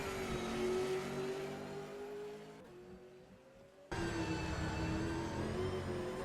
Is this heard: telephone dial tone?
no